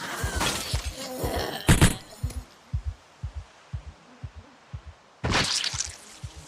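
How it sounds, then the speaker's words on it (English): Glass shatters in the Project Zomboid zombie survival game, a bright crash followed by a regular thumping rhythm and a second burst of breaking glass near the end. "Why did I hear broken glass"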